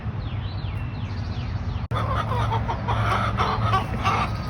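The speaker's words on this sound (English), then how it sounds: "Chickens are still talking." Chickens clucking and chattering continuously close by, with a brief dropout partway through and birds chirping in the background.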